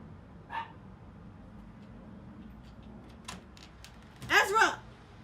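A pet dog gives a few faint, distant barks in a quiet room, with one short yip early on and a louder pair of barks near the end.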